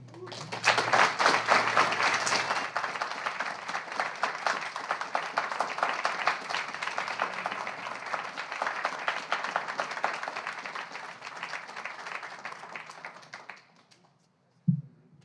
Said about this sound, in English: one more big round of applause for Sally and for Alison